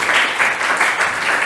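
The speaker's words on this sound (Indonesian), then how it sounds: "tepuk tangan dulu dong untuk Mbak Winnie ya" A classroom group claps together for a teacher's presentation, bright dense applause with a gently pulsing rhythm, fairly loud and close, with no talking over it.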